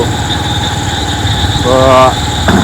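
A motorcycle engine hums steadily while riding, with a brief tonal rise near the end and a loud, close engine drone throughout.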